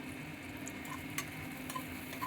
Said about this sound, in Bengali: এদিকে একটু ভেজে নেব